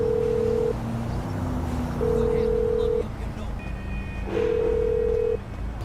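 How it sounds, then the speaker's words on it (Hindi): Mobile phone ringing with an incoming call in GTA 5, three evenly spaced long electronic tones over a low background rumble. "अरे फोन आ रहा है"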